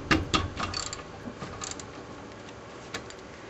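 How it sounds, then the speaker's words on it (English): Ratcheting Torx T45 socket working loose the front brake bolts on a 1997 Ford Expedition, giving a few close, sharp clicking ratchet bursts early on, then quieter mechanical ticks and one last click. "So this is a ratcheting Torx socket size T45 for these bolts right here"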